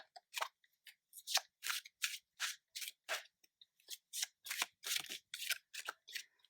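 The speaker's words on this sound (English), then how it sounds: "Shuffling." A deck of tarot cards is shuffled in quick, crisp riffles and slaps, close and alone, in a steady uneven rhythm with short pauses.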